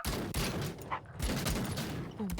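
An artillery barrage in an anime battle scene, heard as a short, loud cluster of thudding blasts and rapid gunfire packed closely together.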